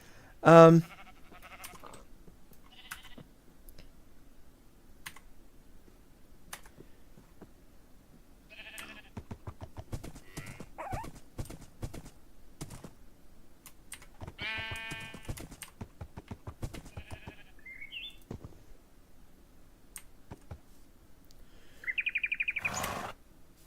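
A sheep in a video game gives a few short, scattered bleats over faint game ambience, with people talking at times.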